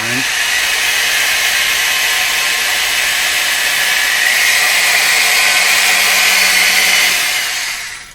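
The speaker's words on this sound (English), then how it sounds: "I'll give it a little more grind." A power grinder works steadily on a metal drive traction part from a Viking RCS633 console, a loud, continuous high whine held close for about seven seconds before winding down.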